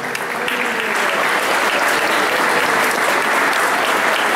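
Sustained applause from a ceremony audience in Rosario, steady and dense for the whole stretch as an honoree is called to the stage.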